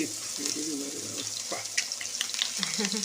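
Masala-coated fish fries in a home kitchen with a soft, steady sizzle and scattered crackles and pops, fairly quiet and close, with faint voices briefly audible.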